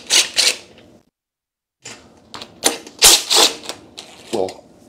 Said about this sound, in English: I'm just using a 10 millimeter socket here